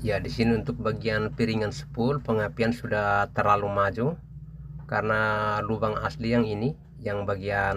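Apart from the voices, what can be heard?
No everyday noise stands out behind the speech.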